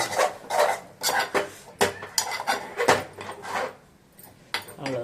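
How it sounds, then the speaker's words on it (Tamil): A spatula clatters and scrapes around a pan while garlic and drumstick leaves are stirred for a murungai keerai poriyal, with peanuts also in the mix; close, irregular knocks and scrapes with short pauses between them. "இந்த பூண்டும் இதில் போட்டுட்டு நல்லா கிளறி"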